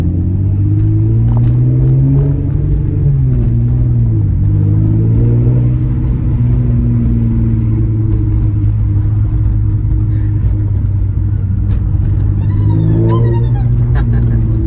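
A Nissan 350Z travels on the road in a convoy, giving a steady, loud low engine drone heard from inside, with the pitch shifting gently as it drives and faint voices now and then.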